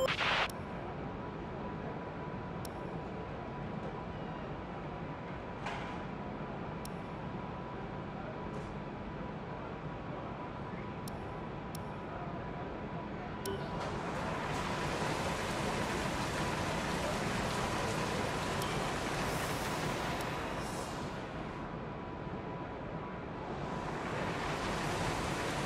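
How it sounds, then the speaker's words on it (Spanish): Rain falls on the track in the F1 2019 racing game as a faint, continuous hiss that swells louder partway through. "La lluvia va a perder fuerza en 5 minutos, aunque seguirá chispeando"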